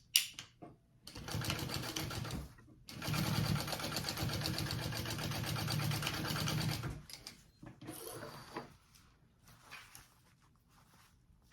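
A sewing machine stitches a bag lining seam in long, fast mechanical runs: a short burst, then a sustained whirring stretch, then quieter handling noises afterward.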